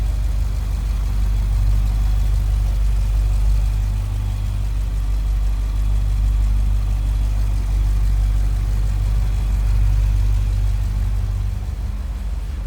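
A 2018 Jeep Grand Cherokee SRT with a Hemi V8 idles smoothly up close, a steady, loud, deep rumble that holds constant throughout with no revving or voices.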